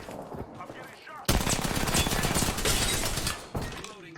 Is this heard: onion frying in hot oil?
no